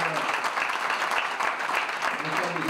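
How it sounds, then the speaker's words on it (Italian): Sustained applause from attendees at a Rome bike park conference and open day, steady dense clapping filling the whole stretch with a faint murmur of voices underneath. "Un applauso bello per voi e l'applauso per lui"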